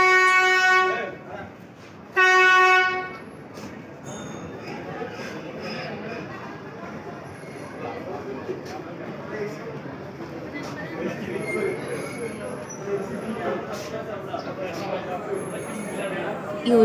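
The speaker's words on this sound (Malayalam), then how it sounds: "ആ ട്രെയിൻ നമ്മളെ പ്ലാറ്റ്ഫോമിലേക്ക് വന്നുകൊണ്ടിരിക്കുകയാണ്" The Nilgiri Mountain toy train pulls into the Ooty platform, opening with two loud horn blasts followed by a steady low rolling rumble of the approaching train while people talk nearby.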